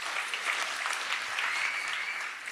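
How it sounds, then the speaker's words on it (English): Steady crowd applause at a Dave McCormick election rally in Warrendale, 2024, a dense continuous wash of many hands clapping at even loudness throughout, with no talking over it. "He deserves a round of applause because he's never changed."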